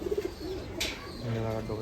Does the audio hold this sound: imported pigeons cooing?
yes